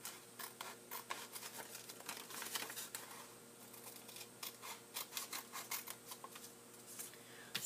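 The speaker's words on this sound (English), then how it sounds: "So I'm just going to cut that little part off here really quick." Patterned origami paper being trimmed with scissors, a run of quiet, close, rapid snips and crinkles over a faint background hum.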